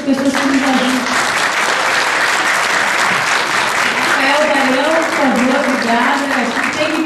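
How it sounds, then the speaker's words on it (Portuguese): Loud, sustained applause from an audience at a samba event honoring musicians and teachers, dense clapping with cheering voices and some music-like tones mixed in throughout. "pedir uma salva de palmas para vocês e para essas pessoas que nos ajudam"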